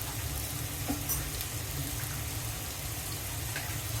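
Chopped onion and sliced green chili fry in oil before river rohu fish is cooked, giving a steady, even sizzle with a low rumbling hum underneath and no voices.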